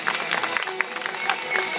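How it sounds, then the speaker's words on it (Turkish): Applause from a small gathering at a child's second birthday celebration, a steady patter of clapping hands that stays fairly even throughout, close and moderately loud with no voices over it. "Coşkuyla, alkışla."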